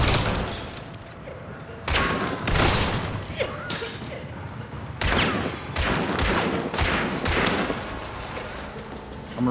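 Loud shotgun blasts in Hunt: Showdown, several sharp booming shots spaced a few seconds apart amid heavy gunfire and crashing noise, with some talk mixed in.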